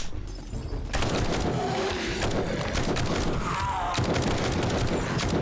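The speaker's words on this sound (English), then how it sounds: "For the most part, I think I'll probably use a gun in here." Gunfire in 7 Days to Die: dense, loud bursts of rapid shots fill the clip after a quieter opening second, with a deep booming layer underneath and no pauses between volleys.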